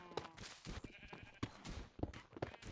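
Several goat bleats in quick succession from the video game Minecraft, fairly close, mixed with soft clicks and bumps in the background.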